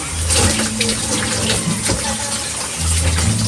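Water pouring steadily into a container, a loud continuous splashing rush heard up close.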